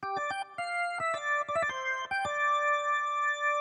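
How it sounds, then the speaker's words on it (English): A UJAM Turbo-XT synthesizer organ plays a sequence of bright, sustained chords with sharp attacks, moving through several quick changes before holding a long final chord. "And with this organ as well."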